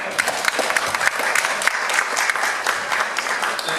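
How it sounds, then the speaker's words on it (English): An indoor audience at a neighborhood candidate forum claps steadily for several seconds, a dense, fairly loud round of applause. "I'd like to hold the applause till the end"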